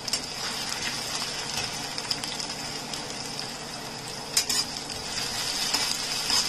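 Chopped onion frying in oil for an ivy gourd fry, giving a steady soft sizzle that holds throughout, with a few brief louder crackles and stirring touches partway through.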